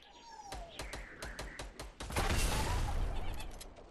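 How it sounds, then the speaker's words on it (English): Gunfire in the Fortnite video game, a series of sharp, evenly spaced single shots followed by a louder sustained burst of fire and noise, with no speech. "Wow, they keep firing at me."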